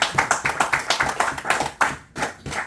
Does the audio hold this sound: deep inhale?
no